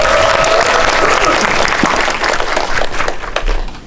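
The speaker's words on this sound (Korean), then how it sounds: "박수" Audience applause at a special guest-visit screening event for a Korean film, a dense steady wash of many hands clapping that fills the whole stretch, with a hint of voices mixed in and tapering slightly near the end.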